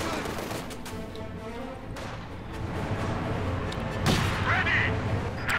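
MG42 machine gun fire in the strategy game Company of Heroes 2 on a battlefield, with bursts of gunfire and dull explosions mixing with other distant shots under a voice talking throughout.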